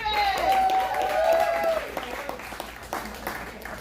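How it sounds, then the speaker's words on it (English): Applause from an audience at a poetry festival open mic fills the room, fading out and giving way to scattered claps and murmurs, with a voice briefly heard over it. "Let's clap for Raven."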